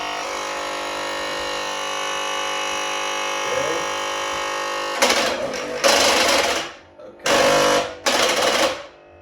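A homemade motorized vodka shot-dispensing machine whirs loudly and continuously, then breaks into several short bursts of a harsher motor buzz that start and stop, with people talking over it.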